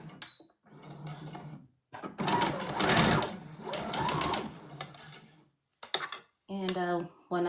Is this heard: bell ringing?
no